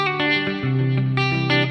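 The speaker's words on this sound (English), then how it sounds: "Have a little delay, a little reverb on there." An electric guitar plays a short melodic phrase of sustained notes, each tail echoing and washing into spacious reverb.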